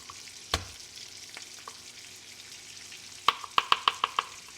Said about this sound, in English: Cooking the shrimp just until it's cooked.